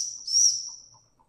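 A steam whistle on a Weeden 666 toy steam engine gives one thin, high, steady toot that swells and then fades away over about a second, close and clear, with faint mechanical ticks behind it.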